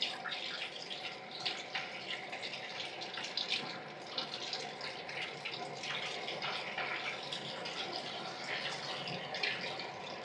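Tap water runs steadily into a kitchen sink or bowl while a century egg is peeled, giving a continuous close splashing rush.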